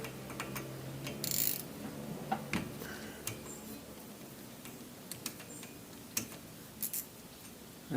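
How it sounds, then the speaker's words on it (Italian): Ratchet wrench loosening the front brake caliper bolts on a Nissan Micra K14 during a brake kit replacement, giving scattered close, dry ticking clicks and short mechanical bursts in a quiet workshop. "Una volta svidate i due bulloni torque da 40"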